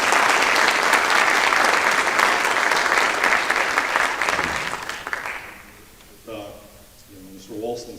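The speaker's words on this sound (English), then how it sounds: "She deserves a big round of applause for doing this." An audience at a high school National Honor Society induction ceremony applauds loudly and steadily for about five seconds. The clapping then fades out and a voice begins speaking.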